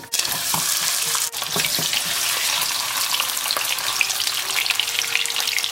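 Thick pieces of carp hit hot oil in a wok over high flame beside slices of ginger, and a loud, dense, continuous sizzle rises. A few clattering knocks sound early on. No one speaks.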